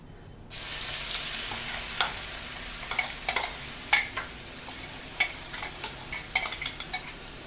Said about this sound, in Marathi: मिरची आणि लसूण याचं वाटण करून घेतलं जाडसर आता हे आपण या फोडणीमध्ये घालूया